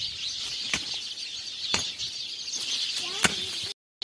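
Sparrows flutter and flap their wings in quick bursts amid constant high chirping, with a few sharp taps and a brief cutout near the end.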